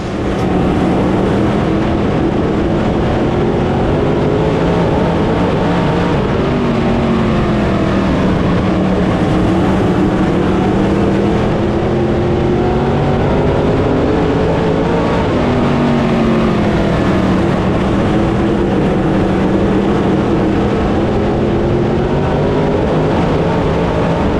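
Stock cars race around Smoky Mountain Speedway, a loud, continuous engine roar with rising and falling pitch as the cars run the straightaway, with no talk.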